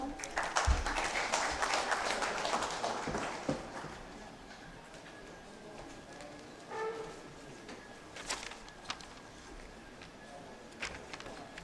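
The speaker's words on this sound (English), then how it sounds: "A round of applause, everyone." Audience applause at a book release function, a burst of clapping that is loudest at the start and fades within a few seconds, leaving faint scattered claps and low room noise.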